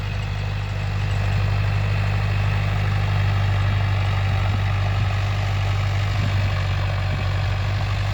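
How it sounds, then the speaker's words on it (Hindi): An Arjun 605 DI tractor engine labours under the load of an eight-foot rotavator, a steady, loud, low diesel drone close by, with no talk over it. "जुगाड़ता मतलब ये है कि लोड नहीं मान रहा।"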